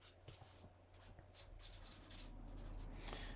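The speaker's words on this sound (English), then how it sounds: "I'll add a little bit of this pastel pencil on here." A white pastel pencil scratches and rubs across paper in short, close strokes, faint and steady over a low background hum.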